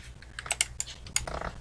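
Quick irregular keystrokes on a computer keyboard, a handful of crisp close clicks in a short burst, with no voices.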